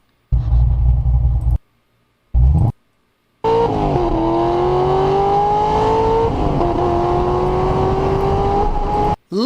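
A high-powered car engine, heard after an LS9 Corvette wide-open-throttle run, screams loudly at high revs. Its pitch climbs steadily, drops sharply at a gear shift and then climbs again, with short bursts of revving and gaps before the long pull.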